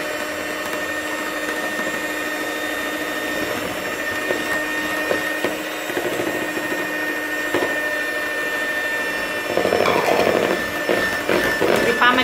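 Electric hand mixer beating cake batter of flour, salt and vanilla for a Greek KOK-style cake, a steady whirring motor drone that grows louder and busier near the end, with no talking.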